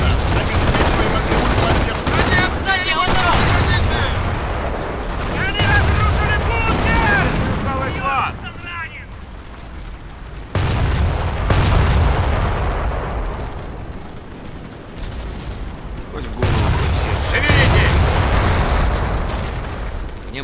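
Bursts of heavy artillery and gunfire in the video game Company of Heroes come in waves, with shouted voices over the top and quieter stretches between volleys.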